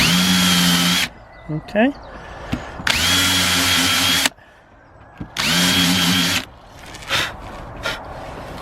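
A power drill countersinks screw holes in a wooden garden crop frame in three loud, steady whirring bursts of about a second and a half each, with a brief word spoken and small clicks and handling noises between them.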